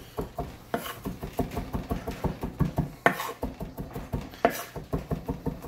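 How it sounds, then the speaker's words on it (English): Knife chopping garlic and parsley on a board for garlic knots, a steady run of quick, close, soft thuds in an even rhythm with a few sharper knocks. "So I'm chopping this stuff up."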